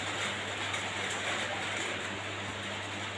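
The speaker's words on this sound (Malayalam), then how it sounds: "മഴ പെയ്യുന്നുണ്ട്." Steady rain falls outdoors as a soft, even hiss, continuous and moderately faint, with no voices.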